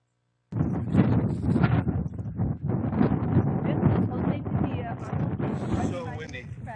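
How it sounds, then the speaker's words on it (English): Strong wind buffets the microphone in heavy, rumbling gusts for several seconds after a sudden start, loud and close, with no clear talking. "So windy."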